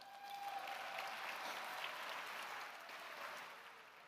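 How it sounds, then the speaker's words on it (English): An audience at an awards ceremony claps, producing a soft, diffuse wash of many hands from a distant crowd that swells briefly and then tapers off near the end. "Give me a little bit of a clap."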